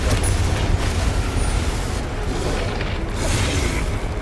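Confringo fire spell blasting in Hogwarts Legacy, a dense rumbling explosion with a low boom that holds steady for several seconds, loud and close, with no talking.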